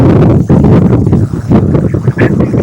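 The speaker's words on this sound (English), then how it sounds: "Gives you an idea of the winds here." At an outdoor football game on a windy, muddy day, strong gusts batter the microphone, producing loud, close, rumbling buffeting that swells and dips in pulses throughout.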